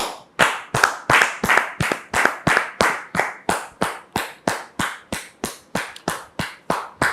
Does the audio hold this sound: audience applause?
yes